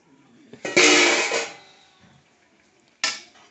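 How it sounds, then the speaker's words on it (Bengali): A lid lifted off a cooking pot of simmering vegetarian curry, a sharp metallic clatter and scrape up close, then quiet and a second brief clank a moment later. "ঢাকনাটা খুলে দিলাম।"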